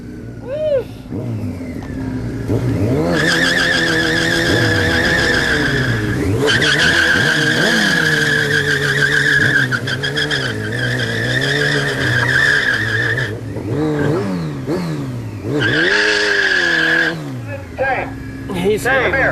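A motorcycle doing a burnout roars loudly and close by, its engine revving up and down in repeated sweeps while the rear tire squeals and skids continuously, with brief dips between bursts.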